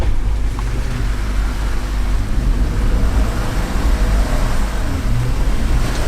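A Jeep Wrangler crawling over an off-road obstacle, a loud steady engine rumble with wind-like noise that stays constant and close, no voices.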